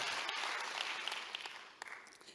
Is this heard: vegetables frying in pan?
no